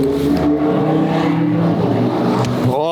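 A McLaren Senna in race mode revs hard with a steady, loud engine drone throughout, rising and falling as it shifts gears, heard close and continuous.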